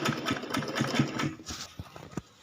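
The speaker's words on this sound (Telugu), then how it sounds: "ఈ విధంగా స్టిచ్ చేసుకుంటూ రావాలి." Sewing machine stitching the seam of an umbrella skirt, a quiet rapid mechanical whir with fast needle clatter that slows and stutters toward the end, heard close with no voices.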